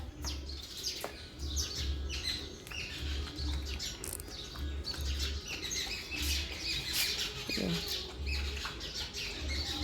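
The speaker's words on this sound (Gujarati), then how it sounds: "ચકલીઓ અહીંયા થઈ જાય છે. ચકલી, પોપટ બધા જ આવે છે." Sparrows chirp and squawk in a busy, overlapping chatter at moderate distance, steady throughout, over a low background rumble.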